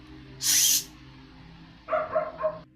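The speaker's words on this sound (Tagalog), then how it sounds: "Medyo nag-iingay yung aso namin ngayon, so please bear with me." A dog barks indoors, a short cluster of three quick barks near the end, heard after a brief loud hissing burst and otherwise quiet room tone.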